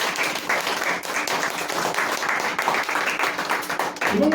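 A church congregation claps hands together in sustained, dense applause during a Spanish-language worship service, steady and fairly loud throughout.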